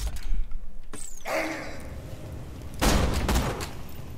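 A powerful weapon fires in the video game Borderlands 2, a loud burst landing early and a second heavy blast a little later, over steady background game noise.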